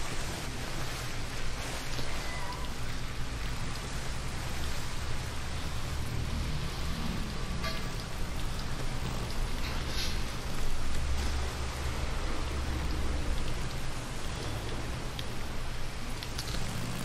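Steady rain falling in the video game Days Gone, a dense, even hiss of downpour that continues unbroken throughout, with no voices.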